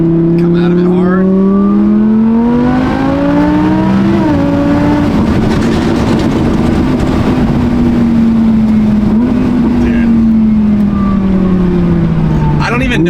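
Supercharged Audi R8 engine pulls hard out of a corner at a TX2K event, a loud, close, steadily rising drone with gear-change dips, heard from inside the car.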